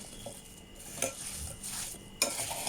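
Apple crumble filling with lemon juice being mixed in a bowl: close, wet stirring with spoon clinks and scrapes, and two sharper knocks.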